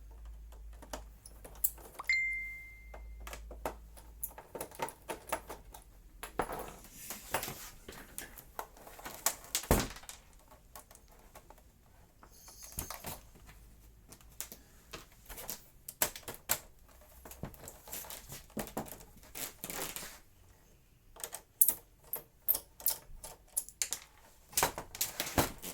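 Phillips screws come out of the bottom of an Archimedes A3010 computer case in a run of faint, irregular clicks and ticks, with quiet handling noises in between and no talking.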